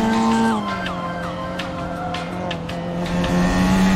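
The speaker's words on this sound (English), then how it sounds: "Approaching rapidly in the Formula 1 2022" A 2022 Formula 1 car screams in with a loud, high-pitched engine whine whose pitch drops sharply as it passes, then holds a sustained drone. No speech.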